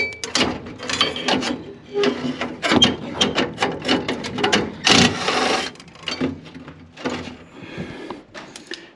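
Screws come out of the burner assembly of a Heil/Tempstar 80% gas furnace being serviced, with close, irregular metallic clicks, scrapes and rattles of the tool and parts.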